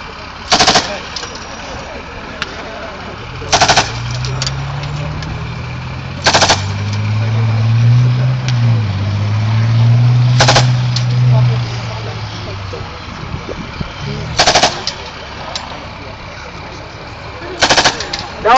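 A 62-ton armoured vehicle on a British Army live firing exercise giving covering fire, sharp machine-gun bursts every few seconds over a low rumbling engine, with someone talking throughout.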